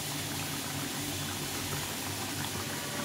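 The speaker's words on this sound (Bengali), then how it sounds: "ঝোলটা ফুটে গেছে" Fish curry gravy with vegetables bubbling at a steady boil in a pot, a continuous close, moderately quiet burble with no talking.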